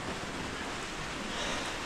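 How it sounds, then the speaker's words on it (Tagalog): Steady, dense rain falls outside a house, a continuous hiss with no talking. "Ulan pa rin mga idol pag uwi."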